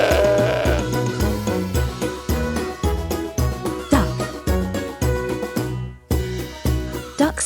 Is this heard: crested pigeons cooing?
no